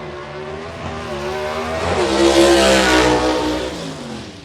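A 1955 Chevrolet gasser drag car launches down a dragstrip, its engine roaring loud and rising through the gears with a slight clutch slip, building to a peak midway before easing off.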